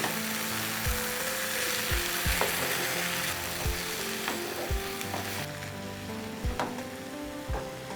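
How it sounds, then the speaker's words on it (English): Spinach puree being stirred into spaghetti in a hot pan gives a loud, continuous sizzle and frying hiss, with regular scraping knocks of the spoon against the pan and no voices. "Now I'll add a prepared spinach puree. And just mix well."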